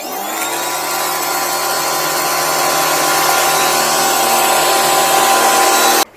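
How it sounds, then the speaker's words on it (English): A TEANDE TE-5240 3000 PSI, 2.8 GPM pressure washer sprays through an undercarriage wash attachment with a steady loud hiss and motor drone, rising slightly before cutting off abruptly near the end. "So this is what the undercarriage wash looks like."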